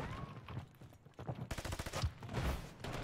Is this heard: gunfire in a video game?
yes